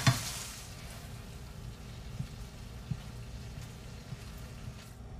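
Food being stirred in a frying pan for Mexican chicken bowls: a soft continuous sizzle with scraping stir sounds, a few light knocks and a louder clank at the start.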